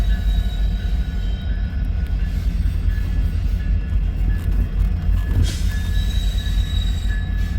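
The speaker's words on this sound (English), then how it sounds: "this is a gigantic westbound manifest that I chased from Cargill and Blair all the way here to Fremont" A long Union Pacific westbound manifest freight train rolls past close by, a loud continuous rumble of wheels and cars with a brief metallic squeal of wheels midway.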